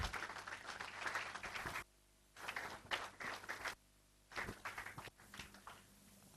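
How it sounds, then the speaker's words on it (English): Audience applause for speaker Chandra Mohan Garg at an IAS coaching institute session: a faint, dense patter of clapping that cuts abruptly into several bursts separated by near-silent gaps. "please a big round of applause for Chandra Mohan Garg"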